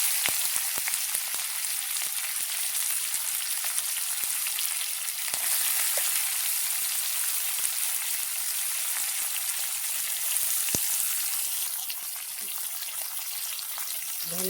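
Onion frying in hot oil in a home kitchen, cooked with whole cumin for a small fish curry, giving a steady, dense sizzle and crackle throughout, with occasional stirring clatter.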